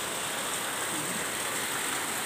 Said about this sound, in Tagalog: umuulan pa po